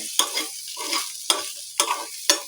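Okra for a garlic masala bhaji is stirred and sautéed in a pan: five distinct, evenly spaced spatula scrapes with a light sizzle, close and fairly loud, no voices.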